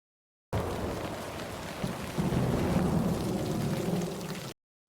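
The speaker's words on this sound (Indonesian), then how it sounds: "Di luar gua, hujan mulai turun kembali." Steady, heavy rain pours outside a cave, with a low rumble of thunder rolling underneath partway through. The hiss is continuous and fairly loud, and no voices are heard.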